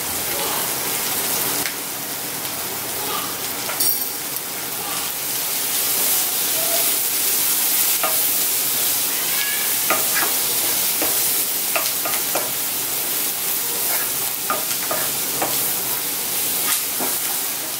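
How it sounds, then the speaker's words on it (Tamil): Onions sautéing in oil with salt and turmeric in a pan, a continuous close sizzle broken by repeated clicks and scrapes of stirring. "பாருங்க வெங்காயம் எந்த அளவுக்கு வதங்கினா போதும்"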